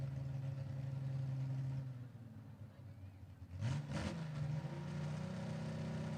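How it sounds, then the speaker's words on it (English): A Ford 248 cubic inch 6-cylinder drag car engine idles on the line at a dragway, a steady rumble that dips, then briefly revs with a sharp burst before settling back to idle. "248 cubic inches of Ford 6-cylinder right there on the line."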